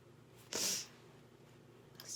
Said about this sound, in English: keep sniffing